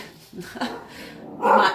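A 10-month-old puppy gives short whiny vocal grumbles and whimpers close by, three brief bursts with the last the loudest, like it is talking back, with breathy noise in between.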